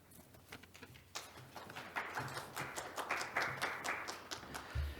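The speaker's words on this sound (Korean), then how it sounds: "다시 한번 단장님께 큰 박수 부탁드립니다" A symposium audience breaks into applause: scattered claps at first, then a fuller, steady patter that stays fairly faint and distant throughout.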